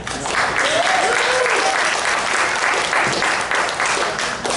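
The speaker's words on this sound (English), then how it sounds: "It is good to hear applause this early" Audience applause at a table reading, a steady, dense wash of clapping from a room of people that holds evenly for several seconds, with a faint whistle-like tone briefly rising over it.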